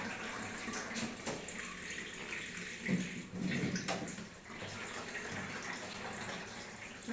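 Small raw mangoes being washed in water, a continuous soft splashing and trickling with a few clearer sloshes in the middle, fairly quiet and close, with no talking.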